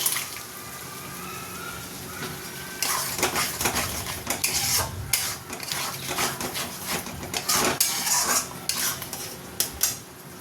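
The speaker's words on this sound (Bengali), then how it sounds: "কাজু বাটাটা দিয়ে ভালো করে নাড়িয়ে চাড়িয়ে কষিয়ে নেব" A spoon scrapes and clinks against a pan while cashew paste is stirred into thick gravy for potol dorma, a faint sizzle beneath; the clattering stirring grows busier and louder after the first few seconds, with no talking.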